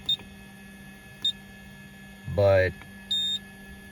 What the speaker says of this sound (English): this does have a timer, and it does have some beepies to it